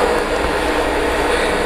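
Model train with a Norfolk Southern caboose at the rear rolling along the track, giving a steady, loud, even rumble that stays unbroken throughout, no talking.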